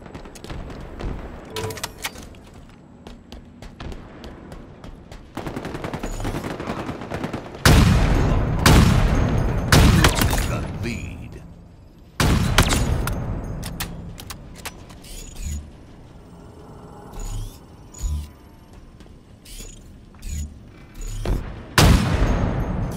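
Weapon fire in Halo Infinite team slayer multiplayer, loud bursts and sustained volleys of shots in several clusters, with quieter gaps of game ambience and mechanical clatter between them.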